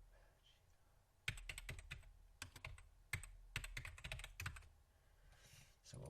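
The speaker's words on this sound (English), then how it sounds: "I gotta stop talking and type." Computer keyboard typing in quick irregular bursts of clicks, with short pauses between runs, fairly close and moderately loud against a quiet room.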